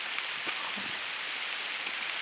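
Heavy rain pours down steadily outdoors at a fishing spot, a dense continuous hiss with a few soft drop impacts close by and no talking.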